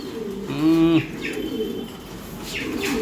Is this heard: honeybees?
no